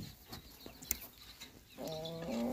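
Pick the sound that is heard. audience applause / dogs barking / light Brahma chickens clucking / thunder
light Brahma chickens clucking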